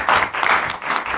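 Brief audience applause follows a speech at a public forum on preventing sexual violence against women, a short loud burst of many hands clapping in pulsing waves with no voices over it.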